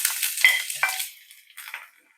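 Onions, ginger, green chili and garlic sizzle in hot coconut oil over popped mustard seeds, a loud hissing fry for the first second that fades, then a few softer crackles toward the end, with no talking.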